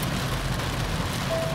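Heavy rain drums steadily on a Proton S70 car, a dense continuous hiss and patter heard from inside the cabin, with no voices.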